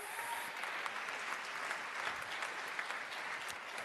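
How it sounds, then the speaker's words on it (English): Steady applause from an audience at a World Food Day closing ceremony, dense and even clapping at moderate level throughout, with no talk over it. "a round of applause."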